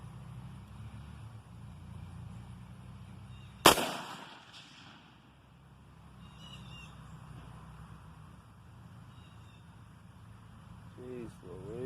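A single sharp, loud report of an incendiary round fired at a target block on an outdoor shooting range, with a quick decay and steady background hum. Faint chirps follow later.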